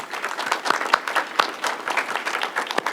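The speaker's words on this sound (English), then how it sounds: "So a round of applause for everyone here at Central." An audience at a university ribbon cutting applauds steadily, with many hands clapping in a dense, moderately distant wash of sound and no talk over it.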